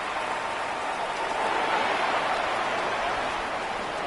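Steady rain falls throughout a football game, a constant broadband hiss of drops with no distinct voices above it.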